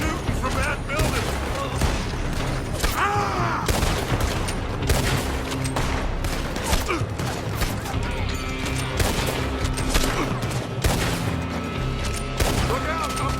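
Gunfire from a building in Red Dead Redemption 2, a sustained fusillade of cracking rifle and pistol shots at varying distances, steady and loud throughout, with voices talking underneath.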